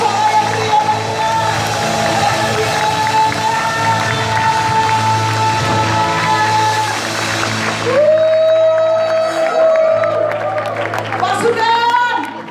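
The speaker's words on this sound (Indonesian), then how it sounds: "Sorak-sorak yang ria-ria." A church congregation cheers joyfully throughout a worship service, a loud sustained crowd roar with whoops and clapping layered over music and voices, continuing without a break.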